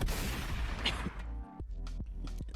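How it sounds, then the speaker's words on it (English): A rapid burst of loud, overlapping gunshots, followed by a few sharper individual shots spaced apart near the end. "Are this supposed to be like bullets, like gunshots?"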